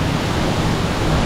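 Nyabomite Waterfall roars as a loud, dense, unbroken wash of rushing water heard up close, steady and broadband.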